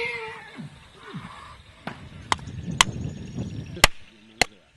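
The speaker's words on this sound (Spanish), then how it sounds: "Ya en el corral se prepara para recortar los vasos de un caballo." A horse's hooves being trimmed in a corral with a sharp machete struck by a wooden mallet, a few loud crisp chops spaced about half a second to a second apart, ringing over low background noise.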